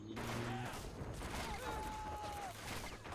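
Bursts of machine gun fire crackle in a World War II strategy game, Men of War, as dense rapid gunfire that runs throughout, mixed with other battle noise and a short whistling tone.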